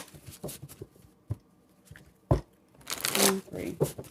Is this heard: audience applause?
no